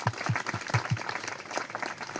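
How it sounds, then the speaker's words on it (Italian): A small audience at an Italian literary event gives a brief, preliminary round of applause: a handful of distinct, close claps at the start, then looser scattered clapping that thins out. "a cui facciamo un applauso"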